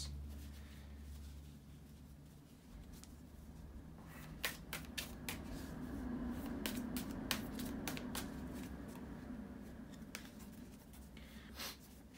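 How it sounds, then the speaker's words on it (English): Tarot cards being shuffled by hand, quiet soft riffling with a series of crisp flicks and snaps in the middle stretch, close and faint over a low background hum, no talk. "bear with me a second, guys, to shuffle the cards"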